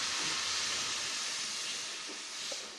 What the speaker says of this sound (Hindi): अभी हम इसके अंदर ये तमाम मसाला डाल रहे हैं